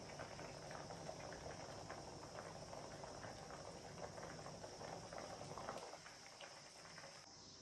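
Tamarind broth for fish curry bubbles steadily in a pot as pieces of fish go in, a continuous soft simmering hiss with fine popping throughout and a slight drop in level near the end.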